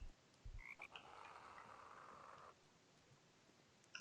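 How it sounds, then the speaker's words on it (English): Frog croaking from a Minecraft game, a sustained raspy croak lasting a couple of seconds with a few short chirps before it, moderately loud and alone with no talk. "I'm also hearing frog noises,"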